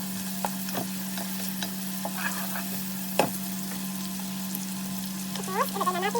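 Food fries in a pan for an Ilonggo valenciana dish while a utensil stirs it, giving a steady sizzle, a low constant hum and scattered scrapes and clinks, including a sharper knock midway.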